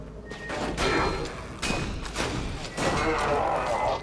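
Repeated shotgun blasts from a first-person game, several heavy booming shots spaced unevenly across the moment, loud and close, with a player voice talking over the gunfire.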